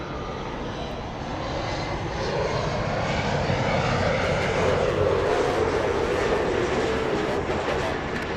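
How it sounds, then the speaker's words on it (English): A Lufthansa Airbus A350 taxis at LAX, a sustained engine whine and rumble that builds slightly in the first seconds and then holds steady, alone without voices. "Lufthansa 452 on the move. A350 on the move."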